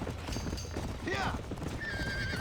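Horses whinny in panic inside a burning barn in the Red Dead Redemption video game, with rising neighs and clopping hooves over a dense roar of fire and someone shouting.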